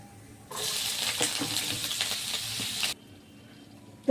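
Teasel gourd and potato pieces drop into hot oil and burst into a loud, crackling sizzle that holds for a couple of seconds and then stops abruptly, close up with no talk.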